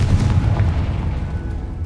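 Confringo spell explosion in the video game Hogwarts Legacy: a loud, deep, rumbling boom filling the whole short moment, close and alone, slowly decaying without a break.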